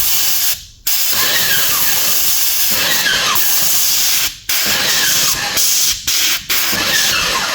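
Erbauer airless paint sprayer jetting paint in a loud, steady hiss, broken by several short pauses as the trigger is released and squeezed again.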